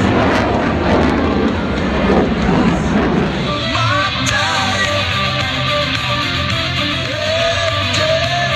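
A Blue Angels F/A-18 Hornet making a 7.5G afterburning turn at a fleet week air show, a loud continuous jet roar that swells and shifts pitch as it passes nearby, with crowd noise faintly beneath.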